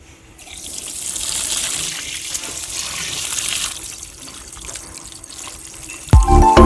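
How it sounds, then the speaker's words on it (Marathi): Chopped broccoli washed under a running kitchen tap, a steady close splash of water that continues for several seconds before a clatter at the end. "आता मी स्वच्छ पाण्याने ब्रोकोली धुणार आहे 2-3 पाण्याने"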